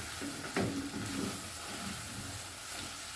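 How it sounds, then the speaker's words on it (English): Beef with tomato and onions being stirred in a pot, producing a steady frying sizzle with a couple of soft scrapes and knocks of the spoon early on, close and continuous without speech. "So after mixing the vegetables now, I give it a good stir."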